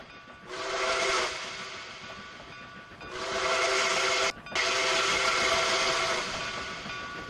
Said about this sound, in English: The whistle skips too.